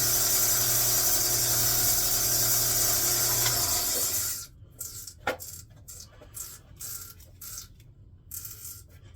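A power sander works wood with a loud, continuous broadband whir for about four seconds, then cuts off, leaving only faint scattered clicks and handling noises.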